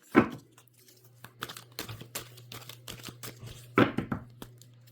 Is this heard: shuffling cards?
yes